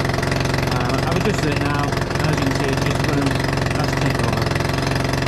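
A Honda BF2.3D outboard engine, freshly adjusted after carb cleaning and a fault with bad fuel and water, idles at a steady, even chug close by, running continuously while someone talks briefly over it.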